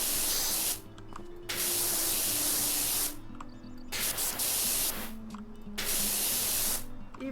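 A pressure washer sprays in PowerWash Simulator, a loud continuous hiss broken into long bursts with brief pauses between them, with a faint tonal hum underneath.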